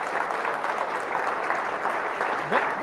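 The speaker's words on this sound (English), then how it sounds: "Give him a round of applause." A room full of people applauds in a soft, continuous wash of clapping, faint and somewhat distant, with a slight swell near the end.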